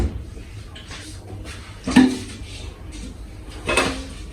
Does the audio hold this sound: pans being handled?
yes